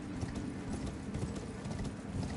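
A horse gallops across a bridge in Elden Ring, its hooves clip-clopping in a quick, continuous rhythm at a moderate distance.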